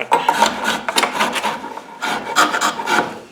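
Hand carving a maple and walnut guitar neck with a Japanese rasp gives repeated rough rasping strokes in bursts, loud and close, with short pauses between the passes and no talk.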